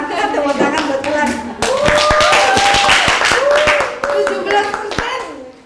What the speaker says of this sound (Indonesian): Tepuk tangan buat Ulan.